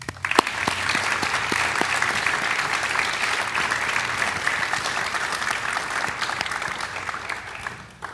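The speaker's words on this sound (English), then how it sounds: "let's give another A big round of applause for all the great acts our youth are performing and for our youth ally" Audience applause at the 2018 Youth Human Rights Awards, a loud, sustained round of clapping from a full room that holds steady for several seconds before tapering off at the end.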